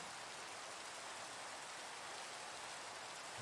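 Steady rainfall in Minecraft, a constant soft hiss of falling rain with no breaks, faint and evenly spread, with no other sounds standing out.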